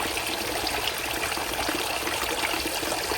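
Water pumped through a homemade filter into a tarpaulin crayfish pond trickles and splashes continuously, a steady close-up patter with no talking.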